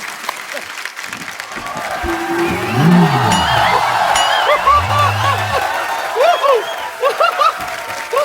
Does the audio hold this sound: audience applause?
yes